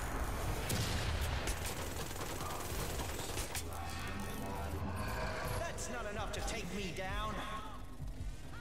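A continuous, noisy barrage of gunfire and shots in Watch Dogs Legion rattles throughout, with mechanical clatter in the mix and someone talking over the action.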